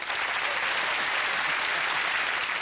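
Steady, dense audience applause fills the whole stretch, a broad wash of many hands clapping with no break and no voices on top.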